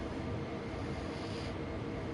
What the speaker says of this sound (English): As you can hear, it's quite windy conditions outside.